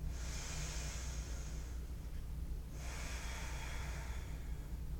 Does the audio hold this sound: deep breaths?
yes